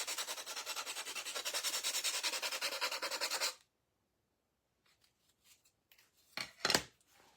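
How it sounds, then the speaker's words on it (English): A craft pumpkin being roughed up with a Gator power sander: a fast buzzing rasp, close and steady for several seconds, then it stops, followed by faint handling clicks and a soft rustle. "let's grab our gator sander"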